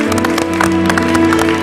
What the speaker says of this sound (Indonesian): Beri tepuk tangan untuk Mbak Zoya